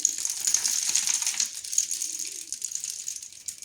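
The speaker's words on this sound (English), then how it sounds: "so this is gonna be copying the rain sound." Beans, rice and smaller beans shaken inside a homemade rain instrument give a steady, bright rattling hiss like falling rain, close and continuous for the whole stretch.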